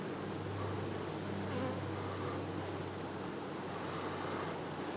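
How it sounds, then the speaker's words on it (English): Honeybees swarm out of an opened hive box during a split into nucleus colonies, making a dense, continuous close-up buzz with a steady low drone and no voices. "like look at all those bees."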